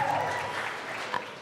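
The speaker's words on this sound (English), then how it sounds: "there's no clapping typically after votes, but I think this is acceptable" Legislators in the Colorado House chamber clap after a bill passes, a short burst of steady applause with voices mixed in underneath.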